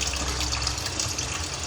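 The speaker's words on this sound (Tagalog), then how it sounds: "Ngayon is dadagdagan ko lang to ng tubig." Water is poured steadily into a cooking pot holding mashed guava for sinigang na bangus, a close, continuous splashing gush with no talk.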